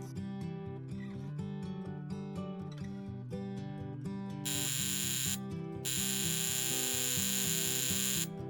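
A repaired tattoo machine buzzes in two sustained bursts, a short one then a longer one, harsh and close over steady background music.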